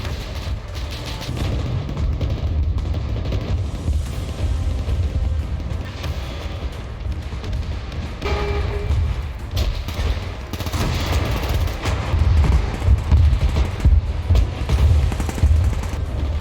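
Battle sound effects of a WWII tank engagement at Kursk, 1943, with dense continuous gunfire, machine-gun rattle and deep artillery booms over a low rumble, loud throughout.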